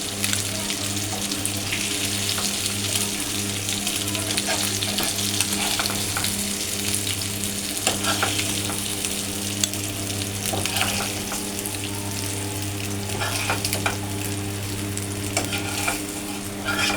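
Katla fish fries in a pan with a continuous sizzle and crackle, joined by running tap water and stirring sounds throughout, moderately loud and steady with no voices.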